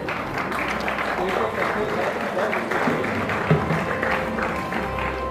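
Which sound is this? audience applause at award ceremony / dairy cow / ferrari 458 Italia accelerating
audience applause at award ceremony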